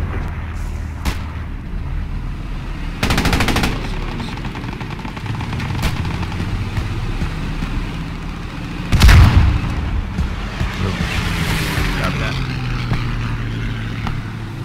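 Gunfire and explosions from the WWII game Post Scriptum: scattered distant shots, two loud bursts of automatic fire and a heavy boom over a rumbling engine background.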